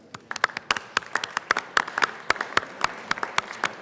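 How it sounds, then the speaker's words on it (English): Members in the Colorado Senate chamber break into a round of applause, a dense patter of many hands clapping steadily throughout with no voices on top. "let's give another round of applause to these heroes and dedicated professionals"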